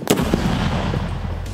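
A 3D-printed launcher's warhead of about 200 grams of Gemini liquid explosive detonates with a sharp, loud crack, followed by a deep, thumping rumble that rolls on for over a second.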